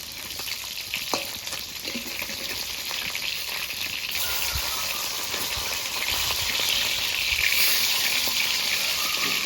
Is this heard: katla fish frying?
yes